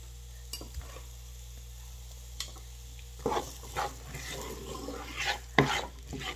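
Onion and garlic cooking in a pan for shrimp rice, with soft stirring and scraping amid a low sizzle, a few sharper utensil clinks toward the end over a steady background hum.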